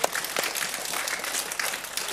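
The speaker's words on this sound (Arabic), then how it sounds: "تصفيقة تصفيقة تصفيقة على بوبي" A crowd breaks into loud, dense applause for Bobby, a sustained patter of many hands clapping up close, with a few brief whoops and no clear speech.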